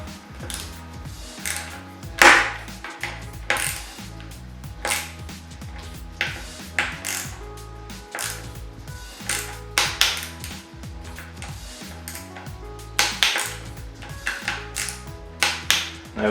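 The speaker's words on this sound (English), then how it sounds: "Now we're nipping up the bottom bolts, and we tighten them evenly, so bit by bit" Bicycle stem bolts on a Privateer bike are tightened bit by bit with a torque wrench, giving a series of close, crisp ratcheting clicks and metallic ticks in irregular bursts, with no talking.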